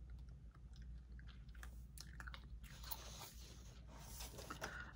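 Soft, wet gum chewing close to the mic, irregular smacking and clicking over a steady low hum, with no talking.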